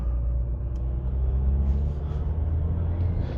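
A worn first-generation Mazda 2 pulls away and drives on a road, its engine giving a steady low rumble heard from inside the cabin.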